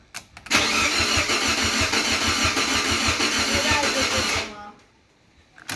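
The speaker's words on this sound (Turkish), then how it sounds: "marşımıza bastık. Motor rahat dönüyor." A Fiat Punto engine cranks briefly, catches and runs loud and steady for about four seconds, then dies away, with a short noise at the end.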